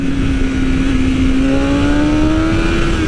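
A 2020 BMW S1000RR motorcycle with a Stage 1 ECU flash accelerates hard, its engine note climbing steadily in a loud, continuous high-revving whine, close and unbroken, with no talk.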